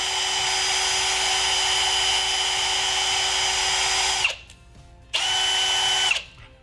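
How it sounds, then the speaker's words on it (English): Drill-powered ratcheting cable cutter cutting through thick copper or aluminum cable, a loud steady high drill whine that stops abruptly, then runs again for about a second before cutting off. "This will cut through cable up to 3¼ inches thick, either copper or aluminum."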